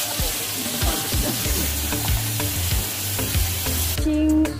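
Chopped bottle gourd and potato stirred into shrimp frying in a pan, a loud busy sizzle with repeated scraping and clattering of the spatula, ending on a sharper metallic scrape.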